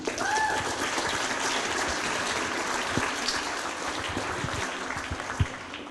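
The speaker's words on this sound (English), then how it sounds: "So give yourselves a round of applause." Audience applause at a school DARE program event, a steady broadband clatter of many hands clapping throughout, moderately loud, with a few faint whistles or voices rising briefly near the start.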